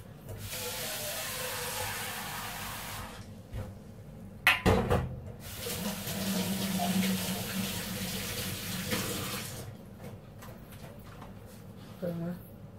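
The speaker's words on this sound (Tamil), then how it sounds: "இதை தண்ணி வச்சு வாஷ் பண்ணிக்கலாம்." Water runs and splashes steadily as peeled tapioca is rinsed, with a short pause in the middle and a few knocks before the flow resumes.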